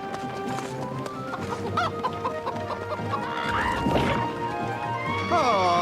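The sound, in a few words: birds clucking in an animated cartoon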